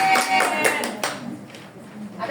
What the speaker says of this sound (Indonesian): Tepuk tangan buat Bu Dini.